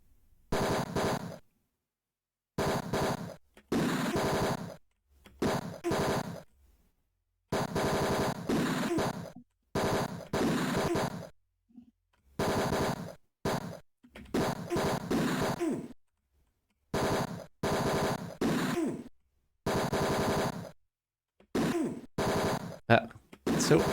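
Bursts of gunfire from the retro video game Tex Murphy: Mean Streets come in a rapid run of short, loud volleys separated by brief silences, with no voices.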